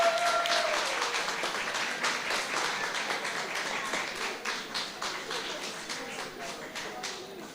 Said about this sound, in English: Let's give Zeta a round of applause